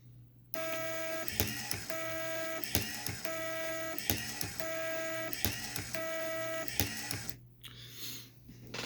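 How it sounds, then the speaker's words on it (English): An automatic wire cutter runs through a batch of five 1-inch wires, its motor whirring in even bursts punctuated by sharp clicks and snaps of each cut, close and fairly quiet, ending with handling noise. "I will cut 5 1-inch wires here, and I'll give you a nice little view of it working here."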